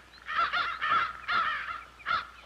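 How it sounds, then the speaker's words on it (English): Crows cawing over a field, a run of five harsh caws in quick, uneven succession, fairly close and clear against a quiet background. "I could tell that from their cawing."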